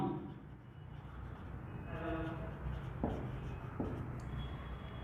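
Pen writing a ledger entry by hand on paper, soft scratchy strokes close by, faint and partly covered by a steady background hum, with a couple of light taps.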